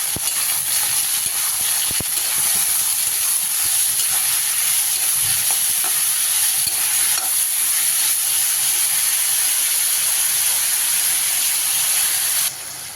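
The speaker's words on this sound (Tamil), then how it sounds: "பச்சை மிளகாய் சேர்த்து தக்காளியும் சேர்த்து நல்லா வதக்கிக்கலாம்." Onions, tomatoes, ginger, garlic and green chillies sauté in a pan for a drumstick chicken curry, with a steady loud hiss and sizzle and a few faint stirring knocks.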